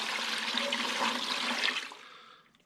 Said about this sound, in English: I'm just going to pour it right into the eggs.